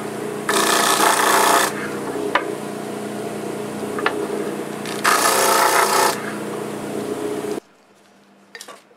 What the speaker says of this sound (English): I'll just touch these pieces off on my disc sander